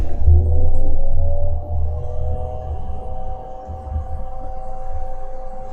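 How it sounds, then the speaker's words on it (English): Air assist pump on a leather-cutting laser cutter runs with a steady, loud low hum and faint tonal whine, holding constant throughout with no voices. "This is the air assist on the laser."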